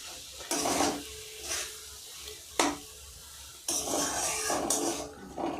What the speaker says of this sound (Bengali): একটু ধীরে ধীরে নেড়ে এগুলোকে ভালো করে ভাজতে হবে